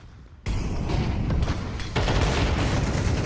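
Automatic gunfire in the video game Counter-Strike, a loud sustained burst of rapid shots that starts abruptly and continues with a slight surge partway through, with no voices over it.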